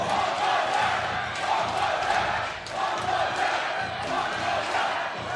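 Mongolian supporters roar and shout in a loud, sustained crowd din at a FIBA 3x3 basketball Olympic qualifying game, the cheering swelling in waves with a brief dip midway.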